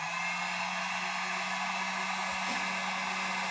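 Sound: Harbor Freight heat gun running on low as battery load

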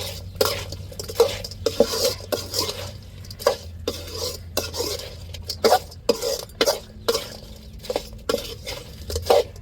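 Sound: stirring shrimp with turmeric and salt in a pan

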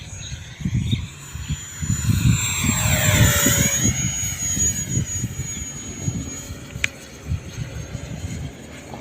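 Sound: electric ducted fan model jet flying

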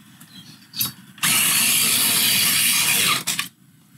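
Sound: long point pencil sharpener sharpening a Polychromos colored pencil

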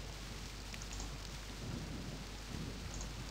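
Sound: thunder and rain in video game Myst

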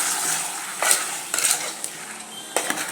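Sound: stirring mutton with turmeric and salt in pan

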